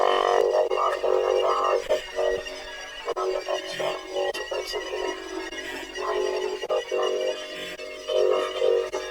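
A recording of a spoken poem played backwards from a website, giving warbling, word-like vocal sounds with reversed swells and sudden cutoffs, fairly loud and continuous.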